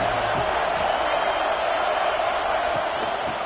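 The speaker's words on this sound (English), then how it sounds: "This crowd ready to make its presence known." Stadium crowd in a Madden football video game during a Texas A&M game, a steady dense roar that holds at an even, fairly loud level throughout.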